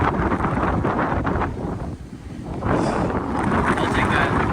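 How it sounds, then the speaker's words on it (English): Strong wind buffets the microphone outdoors in a steady, loud roar that dips briefly mid-way and then surges back, with no other sounds standing out. "it's super windy"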